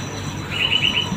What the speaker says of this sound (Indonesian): lagi dengerin suara burung